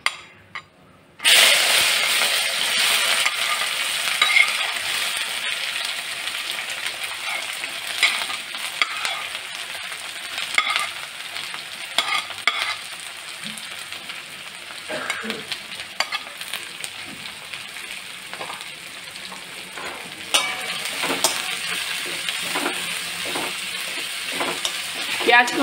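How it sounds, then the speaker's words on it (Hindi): Onions frying in a pan with whole spices like cinnamon, cardamom and bay leaf for Bengali chicken kosha: a steady loud sizzle throughout, with a spoon scraping and clinking against the pan at irregular intervals. "प्याज को हमें 10 मिनट तक भूनना है जब तक ये गोल्डन ब्राउन हो जाए।"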